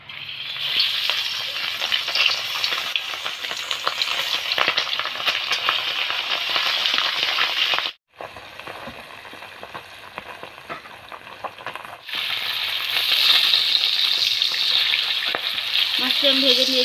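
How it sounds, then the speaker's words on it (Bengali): Pabda fish coated in turmeric fry in hot oil in a wok, a loud continuous sizzle that dips briefly midway then returns at full strength, with light stirring. "কড়াইটা খুব সুন্দরভাবে গরম হয়ে গেছে। এবার মাছ আমি ভেজে নেব।"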